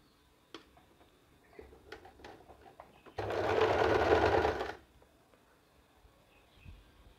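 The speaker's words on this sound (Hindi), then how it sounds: "अगर आप चाहें तो एक फिनिशिंग की सिलाई भी लगा सकते हैं, इसको बराबर से दबाते हुए।" An electric sewing machine runs a finishing stitch along a neckline band of a top, a steady mechanical whir lasting about a second and a half, set between soft clicks and handling taps in a quiet room.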